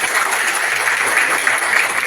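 A gathered crowd at a Kerala traders' association meeting claps together, a steady loud wash of many hands without breaks or voices.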